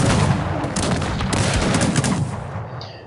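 Massed musket gunfire from Bavarian musketeers in a Cossacks 3 battle, a dense continuous crackle of overlapping shots with heavy booming rumble, loud and sustained before tailing off in the final half-second.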